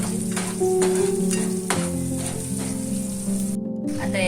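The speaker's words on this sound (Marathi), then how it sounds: "हिरवी मिरची ऍड करायची थोडी। मिरची मस्त शिजू द्यायची।" Green chilies sizzle and fry steadily in a hot pan, with a constant close crackle and occasional stirring clinks, no speech.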